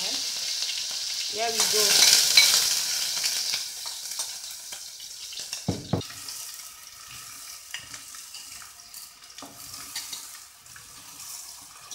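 Onions hit smoking-hot oil with a sudden loud hiss that settles into a steady, close sizzle with small pops; someone speaks briefly.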